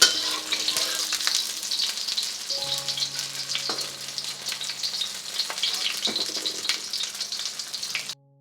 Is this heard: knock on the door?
no